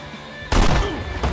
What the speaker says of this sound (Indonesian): Baby segera menembak Bedi terlebih dahulu.